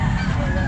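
A chicken, caught after being stolen in Calumpit, lets out one brief, loud, honking squawk up close.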